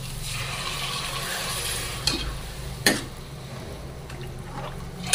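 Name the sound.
ragi flour batter stirred into spices in pot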